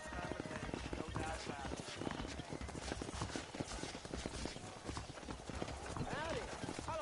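Rapid hoofbeats of a galloping horse in Red Dead Redemption pound steadily throughout, with game-style voices and background effects layered over them.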